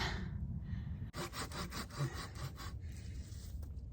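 A hand saw cuts through a dead tree limb outdoors, its strokes rasping back and forth in a quick, steady rhythm close by, with no talking.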